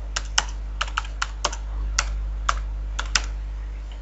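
Password being typed on a computer keyboard: a dozen or so crisp, close key clicks at an uneven pace over a steady low hum, with no talking.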